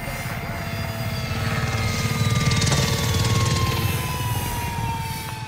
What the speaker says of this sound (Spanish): Helicóptero de apoyo aliado en camino.